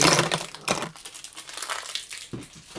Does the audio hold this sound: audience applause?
no